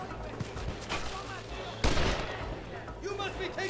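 Gunfire in the Western video game Red Dead Redemption: several sharp shots crack amid ongoing game action, with one loud blast in the middle and a voice talking over it.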